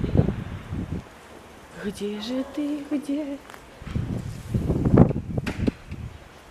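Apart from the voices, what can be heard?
wind blowing outdoors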